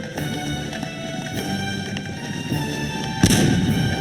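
Artillery fire in the strategy game Cossacks 2 during a Poland versus Russia battle: repeated muffled booms and thumps under a steady game din, with a louder blast near the end.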